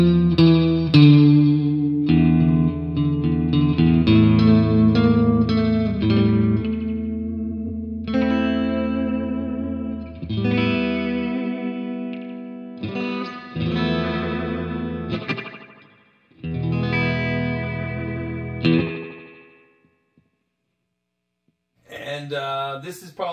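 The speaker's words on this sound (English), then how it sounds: "this is the spring reverb." Electric guitar, an Ibanez RG450DX, played through a Flamma FS02 spring reverb pedal into a Marshall 6100 amp, sounds sustained, phrased chords and notes with a metallic, washy reverb tail, then falls silent before a final short strum.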